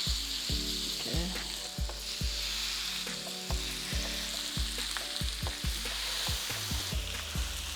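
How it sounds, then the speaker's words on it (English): Steak sears on an electric grill coated with olive oil, giving a steady close sizzle and crackle, broken by frequent sharp taps and clacks of utensils against the grill surface. "I'm using my electric grill tonight just to cook our steak."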